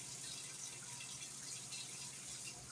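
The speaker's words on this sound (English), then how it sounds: "So I'm going to take my melted butter, and this is 1 stick of melted butter, which is 1/2 cup. Go ahead and pour that in there." Melted butter, one stick's worth, pours steadily into a dish for a baked beef stew, a continuous close liquid trickle with no break, heard alone with no talking.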